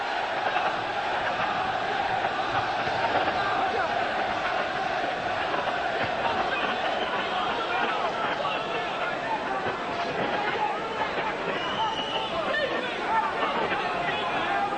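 A boxing arena crowd in Atlantic City, with strong Polish support, keeps up a continuous excited murmur and roar behind steady ringside commentary.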